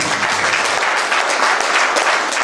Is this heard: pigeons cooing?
no